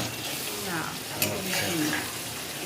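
Cream cooks down in a pan into ghee, a dense, steady bubbling sizzle close up, with faint stirring scrapes and low voices in the background.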